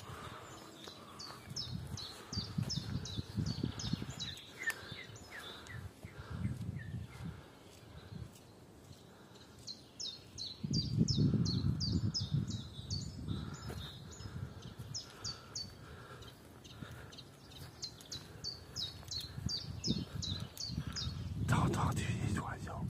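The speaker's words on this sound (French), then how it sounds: "T'entends des oiseaux." Repeated bursts of bright, trilling birdsong from a few birds nearby in early spring, recurring in phrases over rustling and low outdoor noise, with occasional voices.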